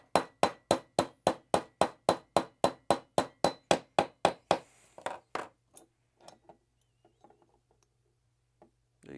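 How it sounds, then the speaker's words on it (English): A punch is hammered against a roll pin in a Ruger-57 pistol slide, about fifteen sharp, evenly spaced metallic taps in quick rhythm, then a few scattered lighter knocks and handling sounds before quiet. "we can now hammer this roll pin out."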